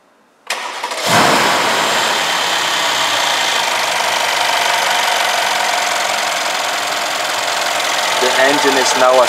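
A Brabus S-Class with a hand-built 6-liter V8 bi-turbo fires up after a short crank and settles into a loud, steady idle close by.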